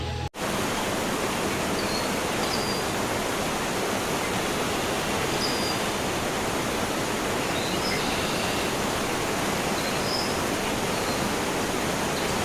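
A river stream rushes steadily beside a pine forest campsite at Bukit Pinus Paseban in Bogor, a dense, constant wash of flowing water close by with no voices.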